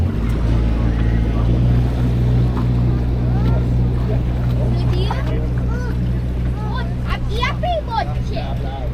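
A tour boat engine drones low and steady close by at St Michael's Mount in Cornwall, with water lapping and people talking over it.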